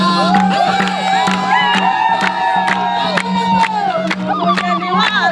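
An outdoor campaign rally crowd for an FPR candidate in Munyaga, Zinga cell cheers loudly, with high wavering ululation and singing voices over rhythmic, regular hand claps, dense and close throughout.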